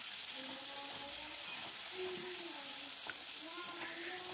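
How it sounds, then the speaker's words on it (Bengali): Potatoes frying with browned onions in a pan for a pomfret curry, giving a steady hiss of sizzling oil with faint stirring clinks close by. "প্রথমে আলুটাকে দিয়ে একটু ভেজে নেব।"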